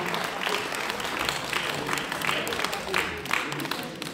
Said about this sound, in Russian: Друзья, давайте подарим аплодисменты этому коллективу.